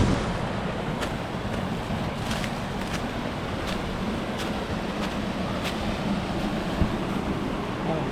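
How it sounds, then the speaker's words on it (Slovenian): Water swirls and rushes in the gorge of the Mrzli potok mountain stream, a dense, steady, close wash of noise with faint occasional clicks, no talk. "Tako se vrtinč voda."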